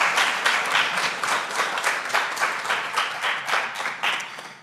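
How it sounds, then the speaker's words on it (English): Audience applause at a public lecture, a steady wash of many hands clapping in a hall, moderately loud and continuous with slight swells, no talking over it. "So please clap for Dr."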